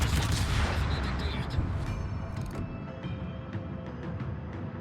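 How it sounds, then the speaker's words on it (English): Heavy naval guns from a Dutch cruiser, the Johan de Witt, fire in a warship battle game: dense, booming low rumble with sharp blasts layered over continuous battle noise and faint background talk. "we've hit him with our main guns"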